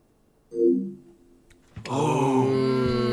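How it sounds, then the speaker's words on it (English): The PlayStation 2 console startup sound: a soft low tone swells and fades, then a bright, rich synthesized chord bursts in and sustains loudly. "that is the sound of a PS2 starting."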